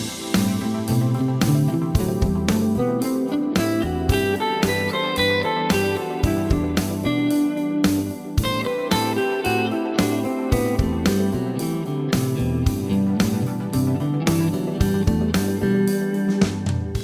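An electric guitar solo runs quickly up and down a scale in a steady stream of separate notes, loud and continuous, with a mechanical, exercise-like feel and no talking.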